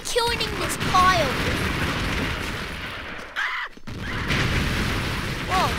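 Explosions and gunfire from the Expendabros video game boom and crackle in a dense, loud stream, broken by a short near-silent gap midway, while game effects whistle over the top.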